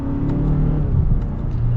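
A 2021 Mazda 6 GTR Turbo accelerating hard, heard as a steady, loud, close engine drone and road rumble that keeps building without a break.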